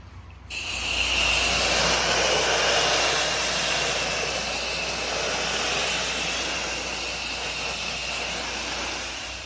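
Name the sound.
pressure washer spraying with X-Jet nozzle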